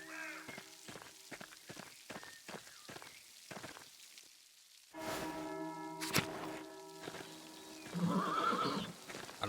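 Hooves clip-clop in a steady rhythm inside the video game Pentiment, then a horse lets out a loud, close whinny, with a patter like rain in the background and no talking.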